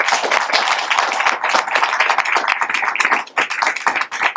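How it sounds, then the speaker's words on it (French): An audience at a morning conference session applauds its speakers, with close, dense, loud clapping that carries on steadily and dips briefly before resuming. "d'applaudir nos intervenants, nos orateurs de ce matin"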